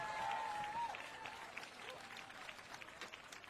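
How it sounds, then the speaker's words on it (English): Faint, distant audience applause for a bush band at an outdoor band bash, a thin patter of clapping over background noise. "Let's give them a big round of applause"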